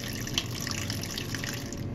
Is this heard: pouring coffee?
yes